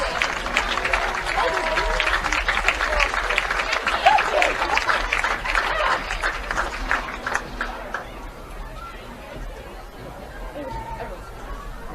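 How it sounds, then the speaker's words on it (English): A crowd at a high school homecoming event applauds the homecoming court candidates, with dense clapping mixed with cheering and chatter that thins out toward the end. "Round of applause for all of our candidates."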